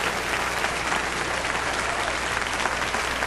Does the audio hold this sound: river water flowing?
no